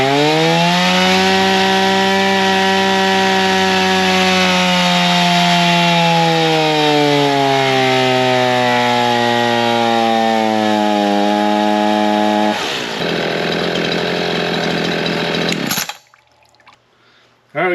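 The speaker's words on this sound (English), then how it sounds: "Alright, now we'll fire it back up, see what kind of power it puts out" A new Echo 4920 chainsaw roars loudly and continuously up close while cutting wood, its pitch slowly dropping and rising under load, then shifting near the end before cutting off into quiet.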